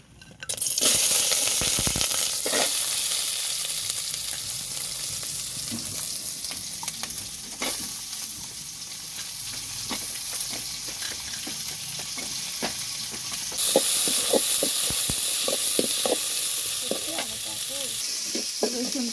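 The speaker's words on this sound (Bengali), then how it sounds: "ঝাল রসুন পেঁয়াজ ভেজে দিয়ে দিলাম।" Chili, garlic and onion fry in a pan for a village-style greens dish, giving a steady, close sizzle with scattered clinks and scrapes of stirring that brighten near the end.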